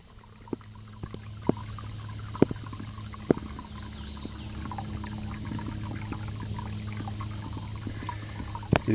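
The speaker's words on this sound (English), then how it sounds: "So I'm going to fill up my bucket" Cool clear water running steadily into a flexible bucket at a trail shelter, a soft continuous pour with scattered faint clicks and knocks, close and alone without talk.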